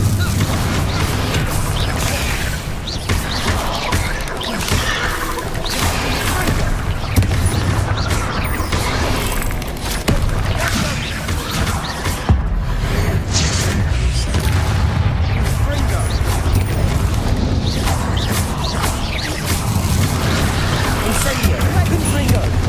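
Spell blasts and explosions from a Harry Potter video game, a dense, continuous barrage of booms and crashes that runs throughout, with a voice shouting spell incantations over the top.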